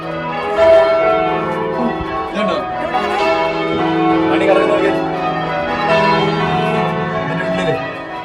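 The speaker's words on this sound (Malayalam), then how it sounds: "ഇതിൽ കയറാൻ തുടങ്ങിയപ്പോൾ തൊട്ട് മണിയടിയുടെ സൗണ്ടാണ് കേട്ടോണ്ടിരിക്കുന്നത്" Bells ringing in a 200-foot church tower, rung by a team of about eight people, a sustained loud overlapping ring heard from close by with voices talking underneath.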